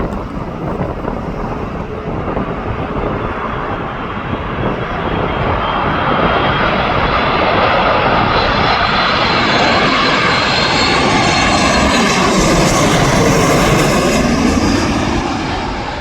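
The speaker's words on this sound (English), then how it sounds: "But just the sensation flying over my head's brilliant." A fixed-wing airliner passes low overhead at Manchester Airport, its engine roar loud and continuous, swelling and shifting in pitch as it crosses close above, with a little wind buffeting.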